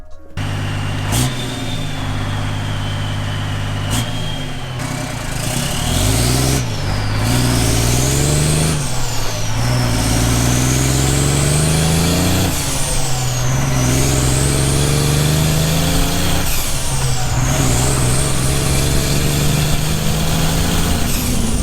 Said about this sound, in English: We're gonna put this so you guys can hear the exhaust, and we're gonna start ripping.